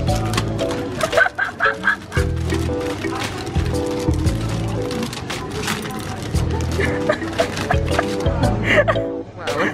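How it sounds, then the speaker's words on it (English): Chickens cluck and squawk in a busy flock, with rapid overlapping calls close by and voices chattering underneath. "Look at all those chickens."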